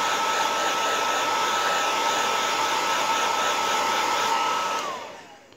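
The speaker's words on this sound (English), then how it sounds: "yes, it's an old hairdryer, Shannon." An old hair dryer blows steadily with a constant whirring hum and airy rush, then winds down as it is switched off near the end.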